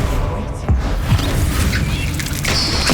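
In Hogwarts Legacy, the Bombarda spell sets off quick, punchy explosive bursts within a second of each other, loud and close amid busy combat noise.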